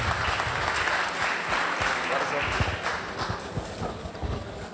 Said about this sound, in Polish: Wielkie brawo również.